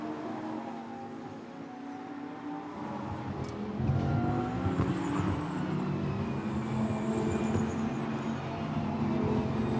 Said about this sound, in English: There is Nico Gomar, number 89, as he turns now up through the Les Combes sequence.